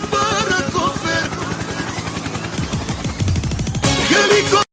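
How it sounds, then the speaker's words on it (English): A helicopter sound effect plays loudly and steadily for about five seconds, with a dense engine roar and a rhythmic rotor chop that grows clearer near the middle. No one speaks. "Helicopter, helicopter."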